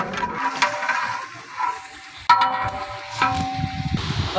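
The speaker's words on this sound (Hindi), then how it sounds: "अभी गोश्त की भुनाई हो रही है माशाल्लाह, ताकि जो मसाले हैं जो अच्छी तरह इसमें मिक्स हो जाएं।" Meat being roasted and stirred with spices in a large pot, heard as irregular scraping and stirring clatter with a soft sizzle, several sharper metallic knocks near the middle and end.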